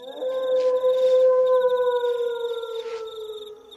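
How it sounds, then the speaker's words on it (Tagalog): A dog howls at night in one long, steady, drawn-out tone that slowly sinks in pitch. It is loud and close and sounds alone, with a faint high chirping behind it. "Kanino ba yung asong umaalulong?"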